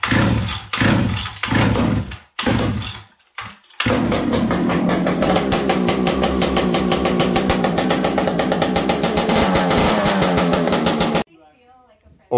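Husqvarna 480CD chainsaw with an aftermarket pipe, a few pulls and sputters before the engine catches and runs loud and steady up close, then cuts off abruptly, with a voice briefly heard.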